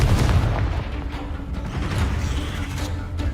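Confringo blasting spell from Hogwarts Legacy going off as a loud, booming explosion right at the start, its heavy rumble decaying and lingering through the rest of the moment.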